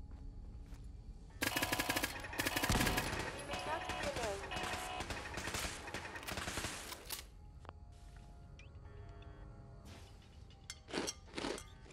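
Turret gunfire in Fallout 4 comes as rapid bursts of automatic fire, dense for several seconds and then thinning to scattered shots. The fire is moderately loud against a quiet background, and some speech may sit underneath.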